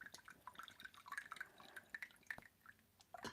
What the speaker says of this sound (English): I'm just pouring my tea.